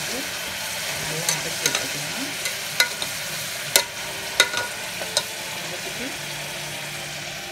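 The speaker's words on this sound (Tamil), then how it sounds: "நல்லா வதக்கிட்டோம்" Food sautés in a pan with a soft continuous sizzle, punctuated by sharp clicks and scrapes of a stirring spoon, while someone talks quietly over it.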